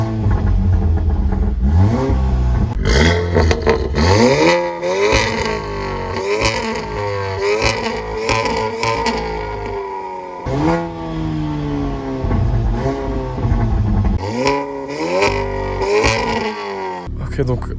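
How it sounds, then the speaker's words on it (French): An Audi S3 stage 2 with a Milltek exhaust revs hard in dynamic mode, engine notes sweeping up and down repeatedly with loud crackles between blips, while a person talks excitedly over it. "Écoutez bien la différence qu'on va passer en dynamique. Attention."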